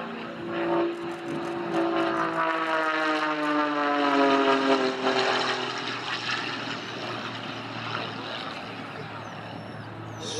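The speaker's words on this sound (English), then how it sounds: "Wow, listen to that propeller." A Pitts Special aerobatic plane's propeller engine rises to a loud, buzzing, rasping roar with strong harmonics, then fades and drops in pitch as it pulls away, heard outdoors at an air show with faint background noise.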